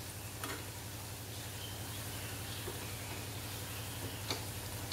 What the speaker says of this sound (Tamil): எண்ணெய் சலசலப்புலாம் நின்றுச்சுன்னா நம்ம எடுத்துக்கலாம்